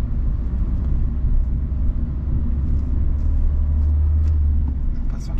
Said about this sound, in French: je vais ralentir et je vais rétrograder en 2